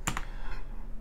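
Someone types a search on a computer keyboard, with a couple of close, crisp key clicks at the start and then a faint tap, all over quiet background hum.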